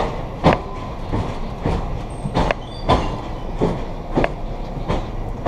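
Rhythmic clacking of Amtrak train wheels passing over rail joints on the Harrisburg Line, a series of sharp knocks in a loping pattern, heard close under a low rolling rumble.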